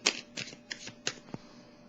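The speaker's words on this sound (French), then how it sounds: "Je vais déposer une carte pour" A tarot card is laid down on a table, a few soft papery taps and slides in quick irregular succession, close and quiet.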